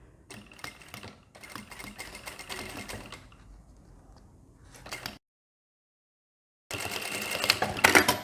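A sewing machine with a machine foot stitches the inner seams of a bag at stitch length 3.5, close and rapid bursts of needle chatter separated by brief pauses and a silent gap before a final louder run.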